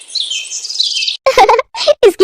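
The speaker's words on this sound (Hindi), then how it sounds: "उस दिन के बाद मिट्टू सबका प्यारा तोता बन जाता है।" A pet parrot gives a rapid run of high, bright chirps for about a second, then voices follow in short bursts of talk.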